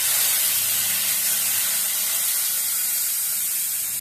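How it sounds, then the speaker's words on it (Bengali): Prawns coated in salt and turmeric hitting hot oil with black cumin in a kadai, a loud, dense, continuous hiss that stays even for the whole stretch. "এবার একটা কড়ায় তেল দিয়ে কালো জিরে দিয়ে নুন হলুদ মাখিয়ে রাখা চিংড়িগুলো দিয়ে দেব। একটু নাড়াচাড়া করে ভালো করে ভেজে নেব।"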